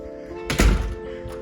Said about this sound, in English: but we'll close the door.